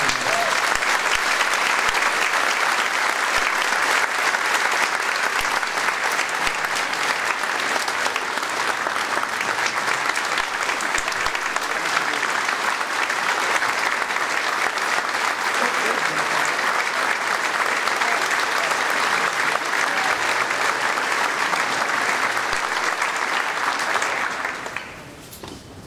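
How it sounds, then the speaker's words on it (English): Long, sustained applause from the audience at a city council meeting in Marion, a dense steady roar of many hands clapping that holds level for nearly half a minute before tapering off at the end. "a round of applause and appreciation from all of us is due to Anthony Manella for his 42 past years of"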